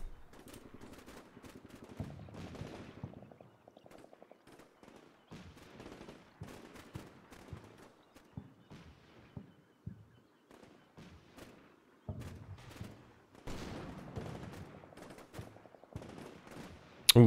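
Gunfire in Combat Mission: Black Sea during a Russian assault on a checkpoint: repeated bursts of automatic fire and scattered sharp shots, crackling and distant-sounding, with short quiet gaps between volleys and no talk.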